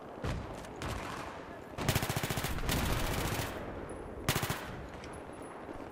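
Automatic weapon fire in the video game Battlefield 3 on the Strike at Karkand map: two sharp rapid bursts of gunshots close up, with other shooting and battle noise continuing in the background.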